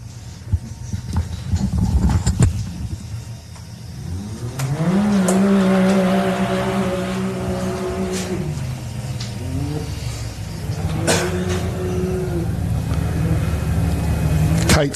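Off-road race vehicles at an off-road 4x4 adventure park rev and roar past, engines rising and falling in pitch over a steady loud drone, several machines passing one after another.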